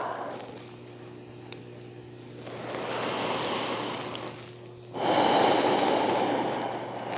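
A slow, audible exhale during yoga breathing in a calm session for headache relief, a soft, breathy rush that swells and fades, followed by a louder, fuller breath near the end.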